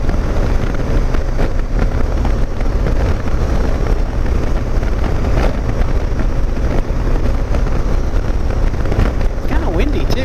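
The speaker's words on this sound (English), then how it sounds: "Kind of windy too." Strong wind on a chilly day near a bridge, buffeting the microphone as a continuous rough roar with gusty surges throughout, and some traffic-like rumble underneath.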